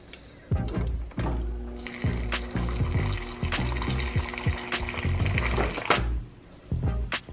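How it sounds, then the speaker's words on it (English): Hot water pours from a refrigerator dispenser spout into a container, a steady close trickle and splash over a faint pump hum that lasts several seconds, then stops briefly and resumes. "You need to support a larger item, under the hot water spout."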